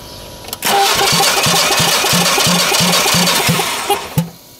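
A Generac generator engine cranks during a compression test on a motor with catastrophic failure, a loud close starter grind with a regular pulsing rhythm of about eight compression strokes, stopping abruptly after a few seconds.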